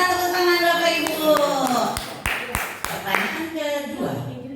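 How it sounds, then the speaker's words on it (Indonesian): A small audience of parents in an Indonesian classroom session claps together, a burst of scattered hand claps with a few sharp isolated slaps, close and lively, under and after a voice. "tepuk tangan Bapak Ibu"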